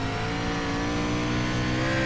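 Race car engine in iRacing's SRX Series at Knoxville, a steady loud drone with harmonic whine, holding a constant pitch with slight throttle variation throughout, no voices.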